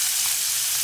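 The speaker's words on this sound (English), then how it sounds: "So now in that beautiful brown butter, we're going to put all of our onions." Onions sizzle in brown butter in a pan, a dense, steady hiss that stays close and even throughout with no pauses.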